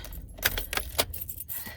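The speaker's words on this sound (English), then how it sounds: "Let me lock my doors" Car door locks engaging on a parked car in a store parking lot, heard as a few sharp mechanical clicks and clunks along with faint key jangling, close by and fairly quiet.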